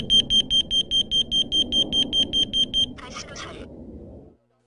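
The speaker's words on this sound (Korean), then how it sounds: "일산화탄소 경보기를 챙기고 경보기가 잘 작동하는지 확인하셔야겠습니다" A carbon monoxide alarm lent out at a riverside campsite in Gwangju beeps through a test in a fast, even series of piercing electronic chirps over a low background rumble, then stops, followed by a brief garbled tone.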